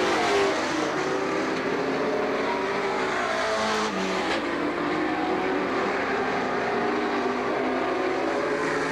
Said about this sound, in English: They move around the lap car of Dave Rosenfield